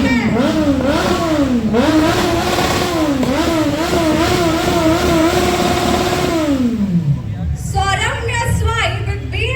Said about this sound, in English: Baljeet Singh with Kawasaki Z900 once again.